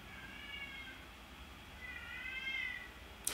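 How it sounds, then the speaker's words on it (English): A cat meows twice in drawn-out, wavering cries, fairly clear and close over a quiet room background, followed by a short sharp knock at the end. "ignore the cat"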